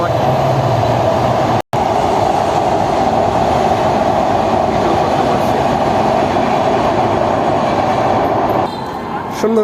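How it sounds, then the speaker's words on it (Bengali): A train rolls past near the Padma Bridge in Bangladesh, a loud, steady close-up rumble of wheels and carriages that holds for nearly ten seconds with a brief cut partway through. "ট্রেন যাচ্ছে"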